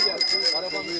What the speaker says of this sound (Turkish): alarm zillerini çalacağız.